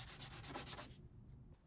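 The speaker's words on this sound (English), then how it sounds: "So I can do that on the sandpaper over the side here." Wooden dowels rubbed against sandpaper give a steady, close scratchy sanding sound for nearly a second, then it stops and a quiet room hum is left.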